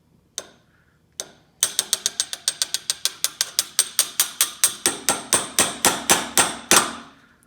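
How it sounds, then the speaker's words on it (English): Rapid hammer blows drive a part into a turbo diesel golf cart during a clutch job, two isolated strikes followed by a fast, steady run of about twenty sharp metallic hits, close and loud. "hammer it in there"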